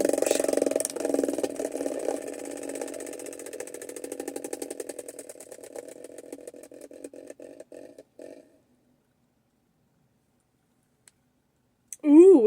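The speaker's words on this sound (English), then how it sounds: "time to spin the Wheel of Wonders." Prize wheel spinning with a rapid run of clicks that gradually slow and thin out before stopping, followed by silence and a brief voice at the end.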